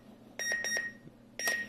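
Alarm ringing on an Al-Hilal prayer clock: a rapid group of four sharp electronic beeps, a brief pause, then another beeping burst, close and clear in a quiet room.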